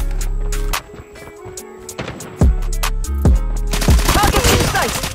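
A Type 25 rifle fires in the Call of Duty Mobile video game: loud rapid automatic bursts broken by short pauses, then a dense stretch of shots, with game voice callouts heard in between.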